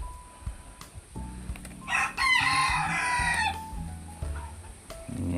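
Rhode Island chicken crows a single long cock-a-doodle-doo close by, preceded and followed by softer clucking and farm background sounds.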